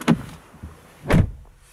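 Front door of a 2016 Mercedes-Benz S-Class S350 4Matic W222 shutting: a soft thud, a short pause, then a firmer, heavier closing thump nearby, with no voices.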